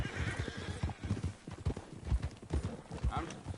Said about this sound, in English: That's a horse, can't kill those.